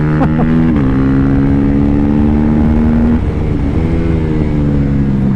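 A 2022 KTM RC 390 motorcycle engine heard while riding, a loud close steady drone holding pitch with a brief shift and dip before settling again, no talk.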